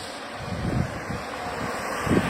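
Gusty wind blowing outdoors beside a road, a steady rushing roar with microphone buffeting and a few louder low gusts, no voices.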